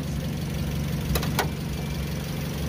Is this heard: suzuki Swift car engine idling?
yes